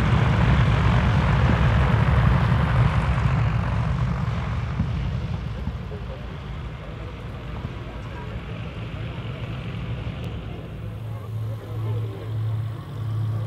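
Vintage propeller plane landing on a grass airfield at an oldtimer fly-in, a steady engine drone fading gradually over the run, with a voice narrating over it.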